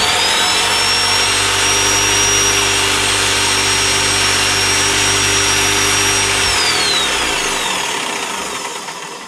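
A jigsaw's motor screams loudly and steadily up close after being repaired, then spins down and fades out at the end.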